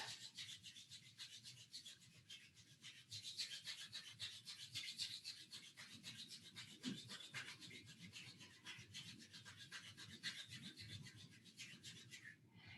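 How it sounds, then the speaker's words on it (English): Palms rub briskly together for friction and warmth, making a steady, close, rasping swish that lasts throughout with only brief pauses, in a quiet room during a yoga session. "take your hands together in front of you to rub, creating some friction and some warmth"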